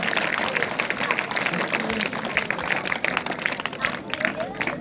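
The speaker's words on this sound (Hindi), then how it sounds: "दीदियों को भी एक बार जोरदार ताली बजा के" Loud, sustained clapping from a school audience at a Navratri lamp ceremony, dense and continuous throughout with crowd noise mixed in.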